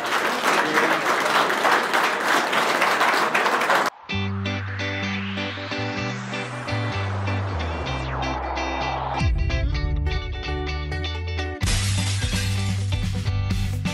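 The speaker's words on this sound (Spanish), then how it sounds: "Fuerte ese aplauso, que se escuche." Roughly four seconds of dense, steady applause from a crowd at an award ceremony held by the Federación Mexicana de Tradiciones in La Mora, Jalisco, cut off abruptly by music.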